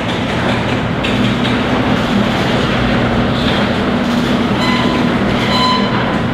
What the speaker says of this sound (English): Got a garage door opener.